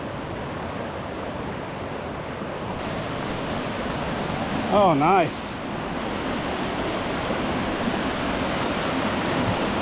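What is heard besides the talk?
creek water flowing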